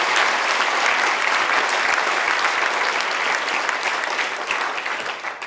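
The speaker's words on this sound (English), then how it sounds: "So just give him a cheer and a clap there." Audience at a president's business lunch cheering and clapping, a dense, steady wash of applause throughout that tapers slightly near the end.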